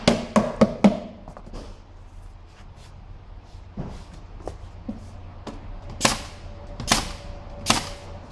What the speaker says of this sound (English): Go ahead and proceed nailing the fingers or the panels together.